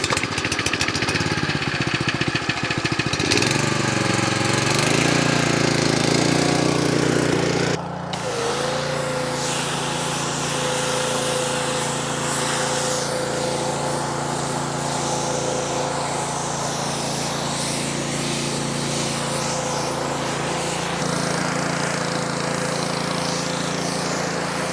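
A pressure washer's motor runs steadily while water sprays onto a Polaris side-by-side, a continuous engine-like drone with a hissing spray that shifts in tone partway through, no talk.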